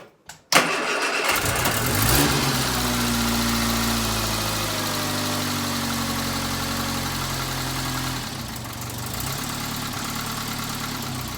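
An Austin Allegro car engine is started from cold after a short crank, catches with a burst, then settles into a steady, close idle that holds for several seconds.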